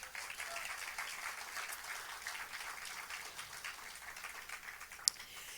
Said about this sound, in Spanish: Dar ese aplauso al Señor.